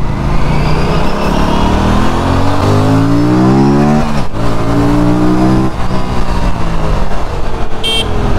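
An Aprilia RS 457 motorcycle accelerating hard on a test ride, engine pitch climbing through the gears with a sharp drop at a shift midway, then rising again; loud, close, continuous engine roar with wind noise.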